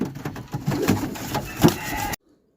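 Pigeons coo in a brief, close burst of throaty calls in Muhayil, Asir, lasting about two seconds before the sound cuts off abruptly into silence.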